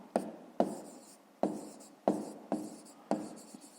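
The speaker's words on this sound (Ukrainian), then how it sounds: "Ну що ж, записуємо відповідь." Pen or chalk writing out the answer to a fifth-grade maths problem, six distinct sharp strokes with short scratchy tails, close and fairly quiet, no voices.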